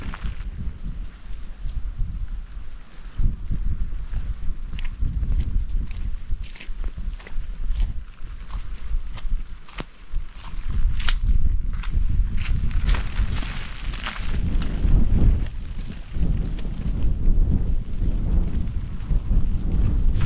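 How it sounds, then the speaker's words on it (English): Strong gusting wind sweeps across an exposed mountain bald, roaring and buffeting the microphone in heavy surges that rise and fall throughout, with footsteps and rustling of gear underneath. "As you might be able to hear, the winds are picking up."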